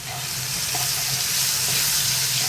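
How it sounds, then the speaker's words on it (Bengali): Tomatoes sautéing in a pan for a fish curry, a steady close sizzle and hiss of frying with faint stirring underneath, continuous and even throughout. "একটুখানি কষিয়ে নেবো টমেটোটাকে"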